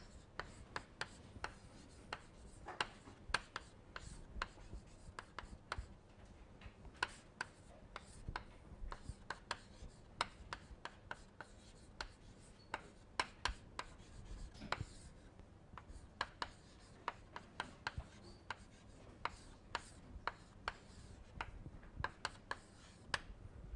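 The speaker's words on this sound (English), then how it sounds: "So I am going to write it down." A pen or marker writes an equation by hand, producing continuous close scratching with frequent sharp taps across the whole stretch, and nobody speaks.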